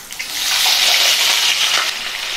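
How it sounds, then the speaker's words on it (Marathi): Potato slices sizzling in hot oil in a pan for a potato and eggplant bhaji, a loud continuous hiss that swells early and holds steady, close up with no talk. "बटाटे 2 मिनिट तेलामध्ये छान फ्राय करून घेऊ।"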